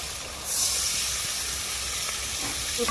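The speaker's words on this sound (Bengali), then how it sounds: "মশলাটা আমার ভালোভাবে ভাজা হয়ে গেছে এইবারে আমি জল দিয়ে দেবো এর মধ্যে" Water is poured into fried spice masala in a hot kadai, setting off a sudden loud hiss of sizzling steam that holds steady and then slowly settles.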